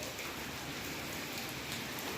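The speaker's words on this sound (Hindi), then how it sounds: "तो भाई बारिश आ रही बहुत ही ज़बरदस्त।" Heavy rain pours steadily in a village, a dense, continuous hiss of drops striking surfaces with no break and no voices.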